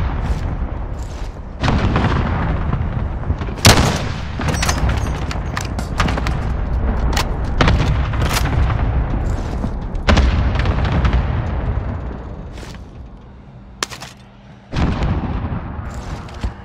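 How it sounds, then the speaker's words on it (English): Cluster strike explosions in Call of Duty: Modern Warfare boom one after another, a dense, loud barrage of blasts with sharp cracks and rumbling, easing near the end before a final burst. "Allied cluster strike inbound."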